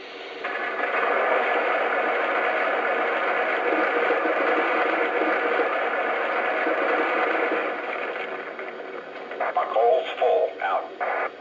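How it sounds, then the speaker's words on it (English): The Lionel A6 Atlantic model train plays a coal-loading sound effect for the tender, a long steady rattling scrape through a small speaker, followed by a few short clattering bursts near the end. "And here's the sound of coal being added to the tender."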